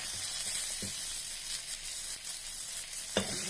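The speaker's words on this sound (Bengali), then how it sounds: "পেঁয়াজটা একটু ভাজা হয়েছে" Onion frying in a pan of oil for a home-style duck and chicken dish, a steady close hiss and sizzle with a couple of brief scraping stirs, no talk.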